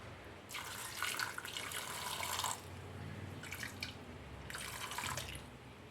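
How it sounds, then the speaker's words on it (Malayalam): Water poured onto lentils in a cooking pot, several separate pouring bursts of splashing water at close range, with quiet pauses between them and no talking. "ആവശ്യത്തിന് വെള്ളവും ചേർത്ത് നമുക്കൊന്ന് വേവിച്ചെടുക്കാം"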